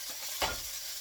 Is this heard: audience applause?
no